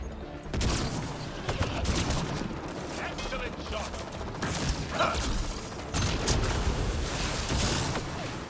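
Rapid sci-fi gunfire crackles and rattles in a Mass Effect: Andromeda firefight on the frozen planet Voeld, with mechanical clicks and bursts mixed into a busy, continuous battle soundscape and a voice speaking at times.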